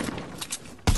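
Gunfire in Fortnite battle royale, a rapid burst of in-game shots building up and then a louder, close blast near the end.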